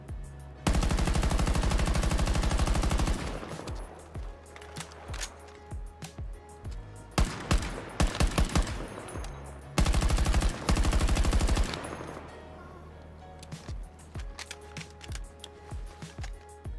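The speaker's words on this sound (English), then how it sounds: "With the second fire mode, you can fire bullet per bullet in a selective fire mode" An MCX assault rifle with selective fire in the video game Bloodstrike: loud, sustained runs of rapid gunfire alternate with quieter gaps, ending in scattered single shots.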